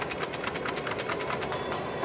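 A Nerf Ultra 2 blaster fitted with an Elite conversion kit, hip-fired in a cylinder dump: a rapid, even train of about a dozen sharp mechanical clacks and dart pops, close and loud, with no pauses.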